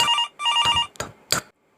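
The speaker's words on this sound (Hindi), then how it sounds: "तभी फोन की घंटी बजी" A telephone bell rings twice in quick trills, followed by two shorter clipped bursts before falling silent.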